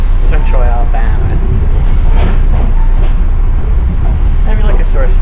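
Old Chicago and North Western gallery commuter car riding rails in north central Alabama, a steady loud rumble of wheels and car body with occasional squealing tones throughout.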